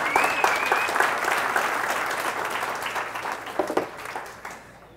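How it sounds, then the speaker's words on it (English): Steady, full applause from a large crowd at a real estate agents' mixer, honoring the Ricky Kane team; dense continuous clapping with a few whoops that gradually tapers off toward the end. "Let's all give them a round of applause"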